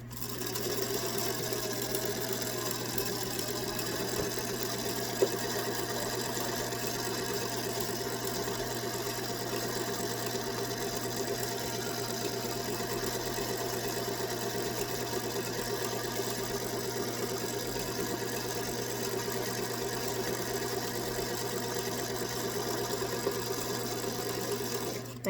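Sewing machine backstitching a seam on a lavender off-the-shoulder dress, a steady continuous mechanical hum and whir running evenly for the whole stretch, alone without talk.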